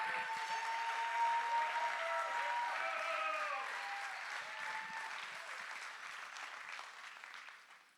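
An audience claps continuously, the applause strong at first and then gradually thinning and fading toward the end, with faint voices underneath.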